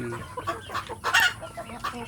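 Free-range village hens clucking in a coop, a few short irregular calls close by, one louder squawk partway through, no talk.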